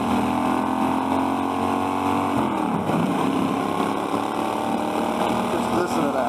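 A 1996 Suzuki Intruder VS1400 motorcycle with aftermarket drag pipes rumbles loudly and continuously nearby, a throaty idle with a slight shift in tone partway through, no voices over it.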